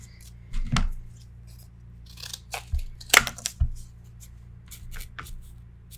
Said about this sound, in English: And this needs to be cut.